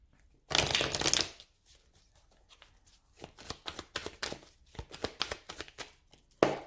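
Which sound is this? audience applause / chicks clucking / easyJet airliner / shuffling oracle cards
shuffling oracle cards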